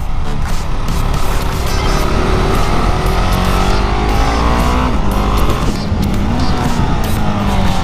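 A Husqvarna Svartpilen 701 roadster with a single-cylinder supermoto engine revs hard and near, its loud, gritty roar climbing in pitch through repeated pulls with no letup.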